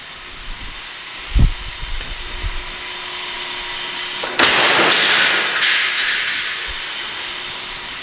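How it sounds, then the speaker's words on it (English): A Cincinnati heavy-duty mechanical power shear, 1/4 in by 10 ft with a power back gauge, cutting metal: a few dull thumps first, then a loud, broad hissing clatter as the shear cycles for several seconds before easing off. "make a few cuts on this guy, let you hear the shear cycling"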